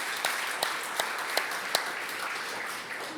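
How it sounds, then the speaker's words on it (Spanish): Church congregation applauding during a sermon, a sustained patter of many hands with a few sharper, louder claps standing out early on before the clapping thins slightly toward the end. "dale palmas, apláudele fuerte, por favor"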